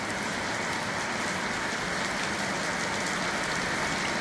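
Heavy rain pours steadily in the Bushveld near Ellisras, a dense, loud, unbroken roar of drops on surfaces with no voices.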